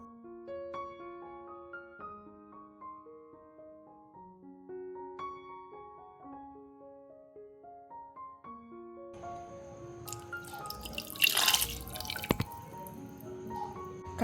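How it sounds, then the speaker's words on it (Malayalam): Dissolved ragi slurry is poured into a pot of chicken soup with broccoli and cauliflower, a short splashing liquid rush arriving near the end after a stretch of gentle background music. "ഇനി ഇതിലേക്ക് ഈ റാഗി ഒന്ന് കലക്കി ഒഴിച്ചു കൊടുക്കാം."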